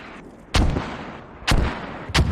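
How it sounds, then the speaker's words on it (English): Frag grenades landing and exploding in a competitive video game match, three sharp loud blasts spaced unevenly over a couple of seconds, with no talk. "frags going over, frags landing a bit longer than intended"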